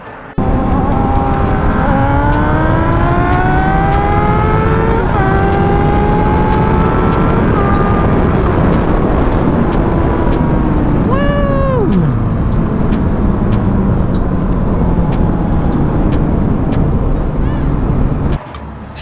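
A Yamaha R1 and a 2014 Gixxer 750 race side by side, their loud engines screaming at full throttle and climbing through the gears with several rising sweeps. Pitch drops sharply as one bike shifts or passes, and the roar stays constant and close throughout.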